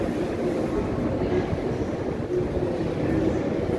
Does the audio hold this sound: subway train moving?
yes